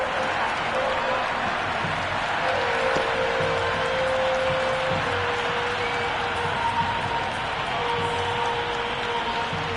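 A large crowd at a T20 cricket match at a stadium in Lahore, a continuous distant roar and cheer that stays fairly level throughout, with a voice talking over it.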